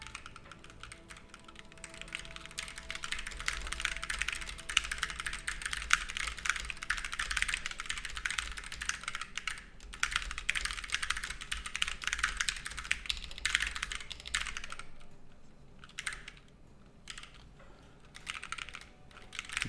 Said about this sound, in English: It's a loud keyboard. Like the body of it is loud,